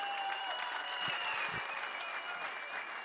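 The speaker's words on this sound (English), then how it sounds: "Let's give another warm round of applause," Audience applause at a live bass fishing tournament weigh-in, a steady, moderately distant wash of clapping that holds evenly throughout with no voices over it.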